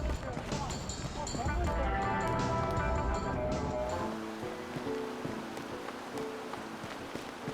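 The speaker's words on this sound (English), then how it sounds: "Oh, I love the sound of the waterfall." Steady rushing waterfall ambience in Final Fantasy 7, a broad, constant wash of falling water that fades somewhat partway through, with a person talking over it.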